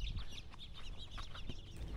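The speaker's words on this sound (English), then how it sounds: "as you're walking, you just hear hundreds and hundreds of birds" Many birds calling on Alessandro Island at Lake Perris, a dense, continuous chorus of overlapping chirps and clucking calls over steady outdoor background noise, with no talking.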